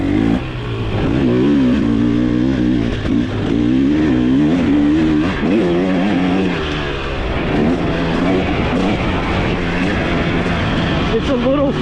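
A 2023 KTM 300 XC TBI dirt bike engine revs and bogs repeatedly on a turn track, loud and close with wavering pitch as the throttle rises and falls, while a voice talks over it.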